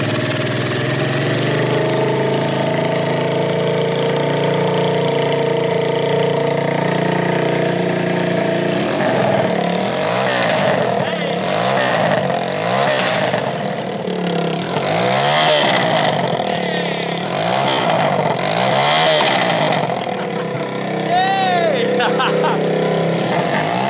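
A 125cc four-stroke engine on a budget drift kart idles steadily and close, then revs repeatedly in rising and falling bursts with a loud buzzing rasp.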